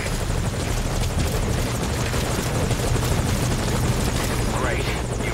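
Helicopter rotor thumping steadily while hovering at a landing zone in Metal Gear Solid V: Ground Zeroes, a loud continuous drone throughout, with radio-style voices talking over it.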